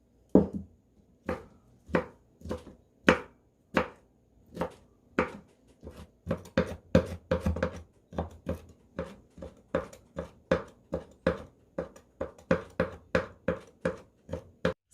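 Knife mincing black wood ear fungus on a cutting board for pork-mushroom dumplings, giving steady, evenly spaced chops that quicken into a brisk rhythm, close and clear with no talk.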